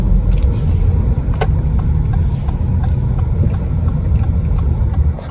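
A Lexus car hums along on the road from inside the cabin, a continuous steady drone of engine and road noise with faint wind and occasional small ticks and bumps.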